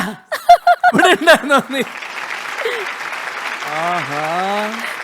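An audience at a Jayaram fans meet applauds in a loud burst of clapping. It settles into a lighter ovation with a few laughs and a voice speaking over it.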